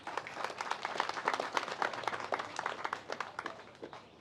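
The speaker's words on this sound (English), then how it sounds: "could we all give a round of applause to your family?" Graduation ceremony audience applauding, a dense, fairly faint patter of many hands clapping that carries on steadily for several seconds and thins slightly toward the end.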